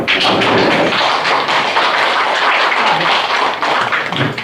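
Applause fills the room at a high school alumni association's annual general meeting: a dense, steady patter of many hands clapping for several seconds, with some sharper taps and thumps mixed in.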